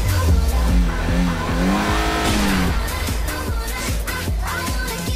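A video-game car engine revs hard with rising and falling pitch sweeps, tires squealing briefly, loud and close with racing-game intensity throughout.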